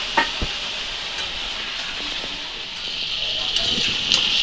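A paneer curry with onion and potato cooks in a pan with a steady, moderate sizzling hiss, broken by a few clinks and stirring knocks.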